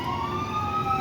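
An ambulance siren blares steadily while the ambulance is stuck in traffic behind a crash involving an MBTA bus on Blue Hill Avenue, with a continuous wailing tone and the rumble of vehicles underneath, no talk.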